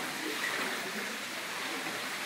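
Floodwater flowing during a flood, a steady broadband rushing wash that holds at a fairly constant loudness throughout, with no voices standing out.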